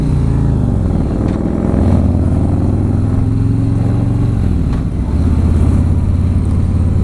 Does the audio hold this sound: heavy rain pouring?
no